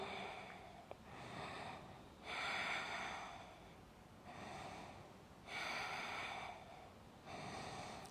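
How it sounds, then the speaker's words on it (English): Slow, deep breathing during a yoga stretch, long drawn breaths alternating with quiet pauses in a steady rhythm, close to the microphone and soft, with no talking. "Breathing here."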